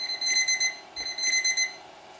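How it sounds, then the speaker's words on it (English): A digital alarm clock beeps in two quick bursts of rapid electronic tones, each pulsing rhythmically, with a short pause between them. "Now you can hear the alarm clock sound."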